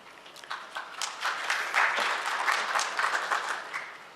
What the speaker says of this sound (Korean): 패널들에 대해서만 박수 쳐주시는 거예요